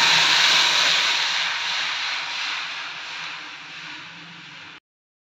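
A loud, bright sizzling hiss starts at once and slowly fades as tomato rasam is poured into hot oil tempering, then cuts off abruptly near the end.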